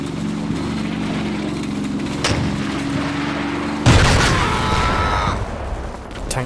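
M10 Wolverine tank destroyers firing on Panther tanks in the Combat Mission game, set in Normandy, 1944: a steady low engine rumble, then a single heavy near cannon boom with a trailing rolling echo.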